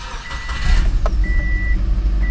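A turbocharged Subaru Forester XT engine with an external wastegate turns over and settles into a deep rumbling idle, with an electronic beeping tone sounding on and off.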